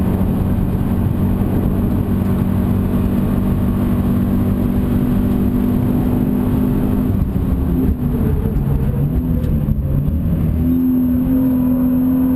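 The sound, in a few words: Subaru BRZ accelerating on race track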